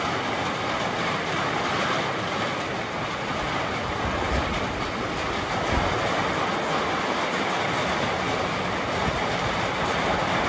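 Heavy rain pours in Ayoquezco, Oaxaca, in a constant, dense roar, loud and unbroken throughout with no voices.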